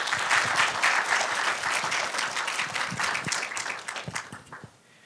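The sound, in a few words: applause at a student council session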